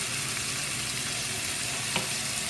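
Shrimp frying in oil in a heavy pan, a steady close sizzle that holds evenly throughout with one brief sharper crackle near the end.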